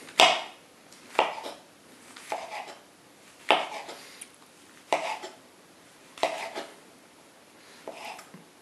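A knife repeatedly cuts through food on a board, about seven distinct chopping strokes at a steady rhythm, close and fairly quiet, with no talking.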